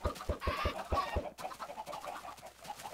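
Chickens clucking in the Minecraft video game, a cluster of soft clucks over quick thumping steps, then a blurred burst of game noise, quiet throughout, no talking.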